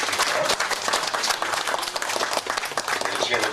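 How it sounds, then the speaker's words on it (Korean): A church congregation claps together during a founding worship and ordination service, a dense, lively burst of many hands close by, sustained for several seconds with a faint voice beneath. "하나님께 영광의 박수를 드리겠습니다"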